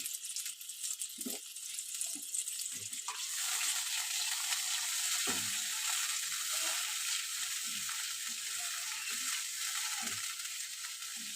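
Sour jujube chutney simmers in a pot with a steady, close bubbling sizzle that swells and holds, punctuated by occasional light clinks and taps against the pot.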